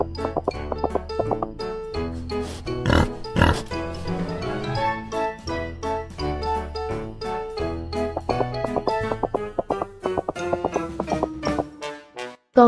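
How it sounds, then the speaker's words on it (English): Oinking pig calls, a series of short grunts and squeals, play over a bouncy musical backing with tinkling accents. "Con heo, pig, pig."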